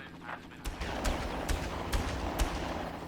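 In a Far Cry game, five sharp gunshots ring out at a steady, unhurried pace over a low rumbling background.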